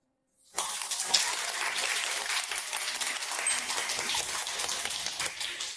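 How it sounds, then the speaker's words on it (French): Villagers clap for a company CEO stepping onto a stage in a village: a dense, steady patter of many hands starts suddenly and holds at an even level to the end, with no voices. "À présent, applaudissons chaleureusement pour accueillir PDG Su qui monte sur scène."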